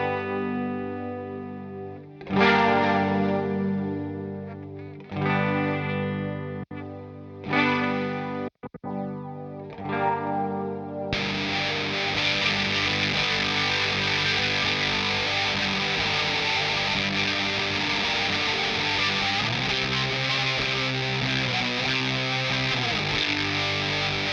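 Guitar notes ring out through distortion, chorus and echo. They then swell into a thick, sustained, washy pad that holds steadily to the end.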